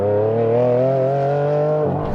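Ferrari Enzo sports car pulling hard in third gear from about 50, its engine note climbing steadily in pitch as it accelerates, loud and close, then easing off near the end.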